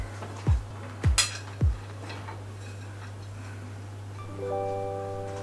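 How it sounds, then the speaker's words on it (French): A knife chops dark chocolate with three sharp, close strikes about half a second apart over a steady low hum, followed by a sustained tonal drone. "Peut-être qu'on va couper un petit peu le chocolat noir."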